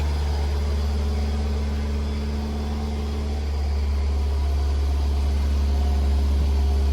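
A BMW 520d (F10) diesel engine runs steadily while its particulate filter burns off soot, a constant low droning hum that holds close and unchanging throughout.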